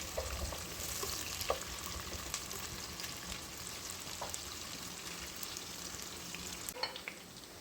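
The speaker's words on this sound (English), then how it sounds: "A generous amount of oil, and I'm adding around 2 large onions sliced. I'm going to cook this until it's lightly golden." Two large sliced onions fry in a generous amount of oil for a beef curry, a soft steady sizzle with light crackles and occasional stirring clicks, close and quiet.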